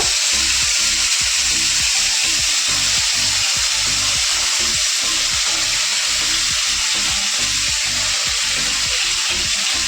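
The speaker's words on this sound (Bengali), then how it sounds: "পাঁচ ফোড়ন দিয়ে শুধু বসিয়ে দেবো" Panch phoron spices sizzle in hot oil with a loud, constant frying hiss over a pulsing, rhythmic rumble, with no one talking.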